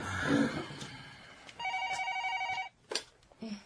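A telephone rings in a home with a steady, electronic-sounding ring lasting about a second, followed by short clatters as the receiver is picked up. A voice is heard briefly before the ring.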